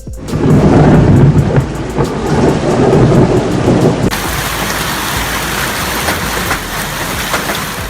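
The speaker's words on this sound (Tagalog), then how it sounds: "Ito ang tinatawag nilang giant hailstorm" Heavy storm, billed as a giant hailstorm: dense, loud pelting of hail and rain with rolling thunder, a steady roar throughout that shifts to brighter, hissier impacts midway.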